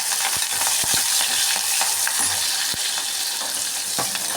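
Green chilies and onions frying in hot oil in a pan for gongura pulao, a loud continuous sizzle with scattered small clicks and taps of a spoon stirring.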